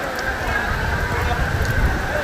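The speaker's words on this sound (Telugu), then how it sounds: "ఇక వర్షం బాగా పడుతుంది." Steady, dense rain pours down in a continuous hiss with a low rumbling undertone, fairly loud and unbroken throughout, with possible faint murmuring in the background.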